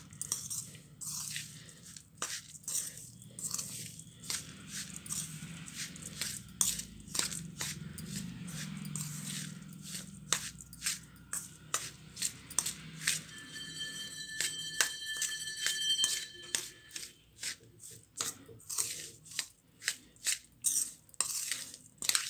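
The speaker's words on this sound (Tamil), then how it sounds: "சேர்த்துட்டு அப்படியே இதை மிக்ஸ் பண்ணிக்கலாம்." Red rice flakes mixed by hand with grated coconut give soft, quiet rustling and crunchy scrunches in an uneven rhythm, with light clicks against a bowl, close up and faint.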